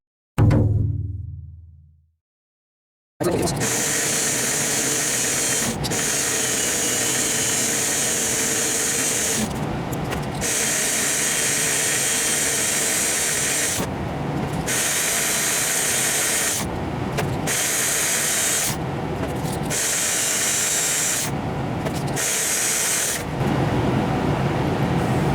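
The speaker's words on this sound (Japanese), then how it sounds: "これも足とトップ研磨していきたいと思います" A power tool sands the foot and top of a fishing float for herabuna fishing, running as a loud continuous whine after a short quiet start, broken by several brief drops in level as it pauses and restarts.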